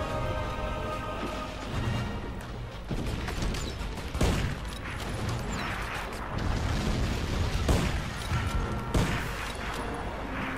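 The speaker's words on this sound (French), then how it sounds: "elle tire bizarrement cette carabine, elle fait un gros pouf comme ça" Carbine fire in the Medal of Honor shooter game, heavy repeated shots with deep booming thuds amid a dense, noisy battle din, loud and continuous with a few stronger blasts standing out.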